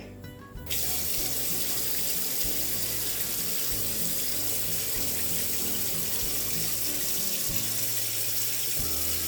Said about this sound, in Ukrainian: Зараз наливаю сюди воду.